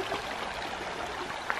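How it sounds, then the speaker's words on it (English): A river runs through Union Gorge, a steady, close rush of flowing water with a soft, even texture and no voices. "So there's a river right there."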